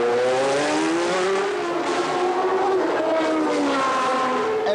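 A 1989 Formula One car driven by Nannini screams loudly as it accelerates hard, its high engine whine rising and shifting in pitch continuously with no talk.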